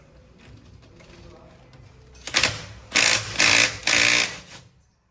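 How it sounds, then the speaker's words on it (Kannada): A socket wrench works loose the wheel bolts on a Hyundai Creta: after a quiet start, three or four loud, close mechanical bursts of rapid clicking follow one another with brief pauses between. "ಸೊ ಫಸ್ಟು ಬೋಲ್ಟ್ಸ್ನ ಒಂದು ಸ್ವಲ್ಪ ಲೂಸ್ ಮಾಡ್ಕೊಳ್ಳೋಣ"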